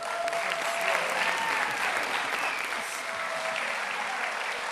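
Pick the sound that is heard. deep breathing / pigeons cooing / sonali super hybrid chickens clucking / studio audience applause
studio audience applause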